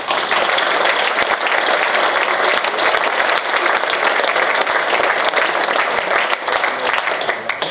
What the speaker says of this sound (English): And they deserve a round of applause too.